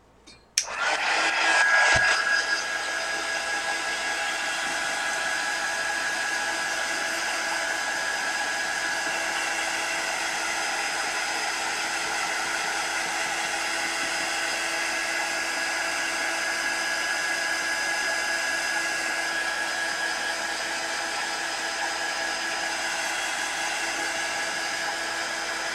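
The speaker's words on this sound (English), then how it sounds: "let me heat gun" A heat gun switches on with a click and blows hot air in a steady, loud whine and rush that holds unbroken for over twenty seconds.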